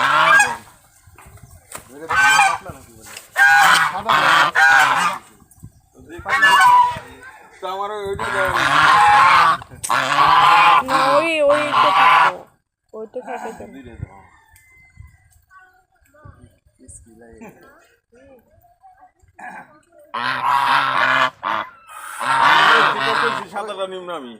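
Two geese honking loudly in repeated bursts, harsh nasal calls close by, with pauses between volleys and people talking in between.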